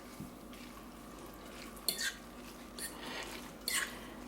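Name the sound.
mixing roasted peppers into fonio salad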